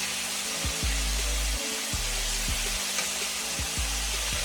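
Chicken wings for lemon pepper wings frying in a pan over medium-high heat, a steady loud sizzle with low rhythmic thumps recurring underneath, no talking.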